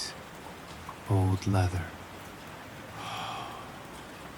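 Steady rain hisses softly against a 1930s mountain cabin at night, a constant wash in the background while a calm voice speaks briefly over it.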